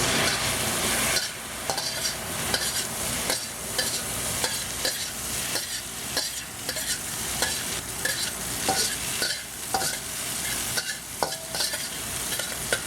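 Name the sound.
shrimp stir-frying with cooking wine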